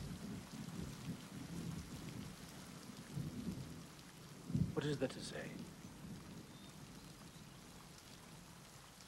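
Steady rain falls throughout in a quiet film scene, a soft continuous hiss with a brief spoken line partway through.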